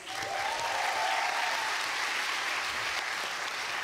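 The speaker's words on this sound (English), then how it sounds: "which I think deserves a round of applause" An audience at an MBA graduation ceremony applauds in a dense, sustained wash of clapping that stays loud and even throughout.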